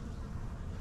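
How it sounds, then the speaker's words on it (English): Honeybees at an open beehive give off a soft, continuous low hum, faint and brief, with no voices over it. "These are awful gentle bees."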